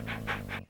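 A dog panting in short rhythmic breaths, three bursts of breathy huffing over a steady low hum, close and fairly quiet, ending abruptly.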